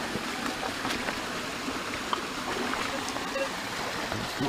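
A waterfall in a forest on a gold prospecting outing makes a steady, broad rushing roar that fills the whole stretch with no breaks, heard from a moderate distance.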